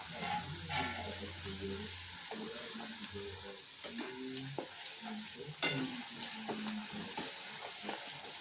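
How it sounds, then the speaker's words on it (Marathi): Besan tikhat puris deep-frying in hot oil on a reduced flame, a steady bubbling sizzle that runs throughout, with small knocks and clinks of utensils close by and no talking. "तेल पूर्ण तापल्यावर गॅस कमी करून द्यायचा आहे आणि हळूहळू पुरी सोडायची आहे"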